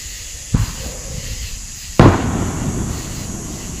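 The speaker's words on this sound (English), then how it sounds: "someone's got leftover fireworks." Two sharp firework bangs about a second and a half apart, the second louder, each ringing out over a steady outdoor hiss.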